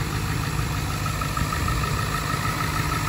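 A 2002 Ford Excursion Limited with a 7.3L Power Stroke diesel idles steadily in a cold Minnesota setting, a constant low rumble and clatter heard close and unbroken, with no voices.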